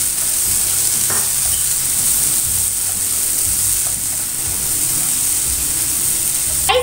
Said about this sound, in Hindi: इसी के साथ में अब हम डाल देते हैं इसमें टमाटोस और इसको अच्छे से मिक्स कर लेंगे।